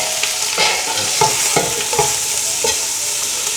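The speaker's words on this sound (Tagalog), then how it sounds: "Saute for another 3 minutes." Chicken sautéing in a pan for Filipino chicken sopas, a steady close sizzle broken by the scrape and clack of a utensil stirring, with no talk.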